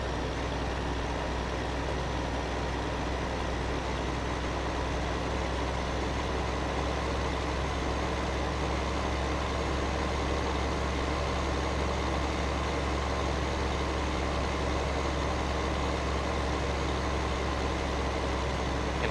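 A tractor engine idles in Farming Simulator 15, a steady low diesel rumble with a constant broadband hum that holds unchanged for the whole stretch, no voices.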